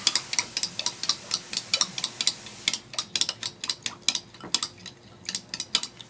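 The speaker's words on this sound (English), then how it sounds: "I'm going to stir into the coconut milk" Rhythmic clinks of a utensil against a bowl while camellia oil is stirred into coconut milk for homemade soap, steady close-up scraping taps repeating for several seconds with no talking.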